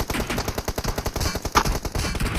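Rapid bursts of automatic gunfire from a BGMI (PUBG Mobile) match, loud and close, a steady rattling stream of shots over about two seconds.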